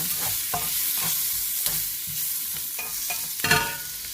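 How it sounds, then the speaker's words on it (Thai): Green peas are stir-fried in a pan, with a steady sizzle of hot oil broken by repeated scraping stirs of a spatula at a regular, unhurried rhythm. "ต่อมาก็เป็นขั้นตอนการผัดผักนะคะ เราก็จะใส่ถั่วลันเตาลงไปผัดก่อนค่ะ"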